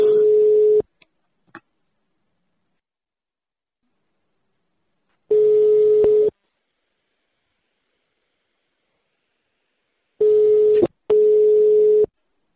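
The ringback tone of a phone call to a neighbouring village sounds as a steady tone in bursts of about a second, with long silent gaps between them and a couple of faint clicks.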